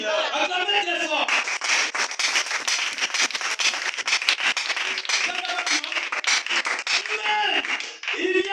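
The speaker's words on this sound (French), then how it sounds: "Acclamez très fort." An audience claps loudly in a dense, fast patter of many hands, with cheering voices mixed in and swelling at the start and end.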